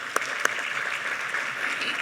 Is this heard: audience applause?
yes